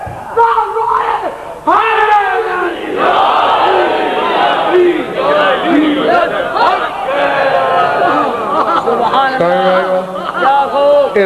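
A large crowd at a religious gathering shouts a slogan together with hands raised, loud and sustained, with repeated collective bursts and chanting voices throughout.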